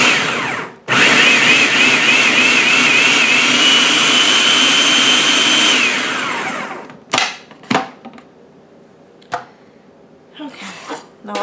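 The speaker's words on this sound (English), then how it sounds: "let's see if we can get the food processor to work" A food processor chops green tomatoes, a loud whirring motor hum running steadily for several seconds and then cutting off, followed by a few sharp clacks and handling noises.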